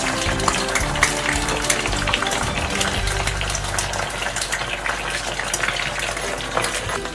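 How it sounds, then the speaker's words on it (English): Fish poaches in coconut milk with black pepper, ginger, curry leaves, green chilli and coconut oil, giving a loud, busy bubbling and sizzling bed with clattering stirring, while talk is faintly mixed in. "Fish slowly poaching with coconut milk, black pepper, ginger, curry leaves and green chilli"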